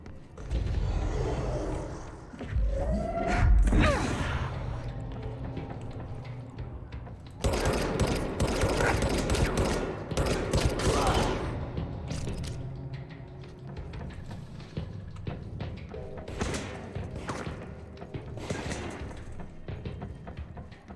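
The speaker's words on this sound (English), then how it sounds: "Where'd that shot come from?" Gunfire in the video game Control: bursts of sharp shots and rattling, machine-gun-like clatter come in clusters over about twenty seconds, with loud stretches broken by quieter gaps.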